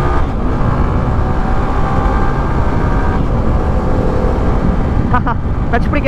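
A Yamaha R15 V3 BS4 motorcycle being ridden gives a loud, steady engine drone with rushing wind noise that stays constant and close throughout.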